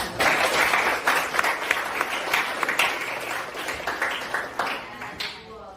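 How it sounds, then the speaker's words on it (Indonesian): Students in a classroom clap for a classmate, a burst of fairly close applause that starts strong, then thins into scattered, uneven claps as it fades toward the end. "beri tepuk tangan untuk Mas Farel"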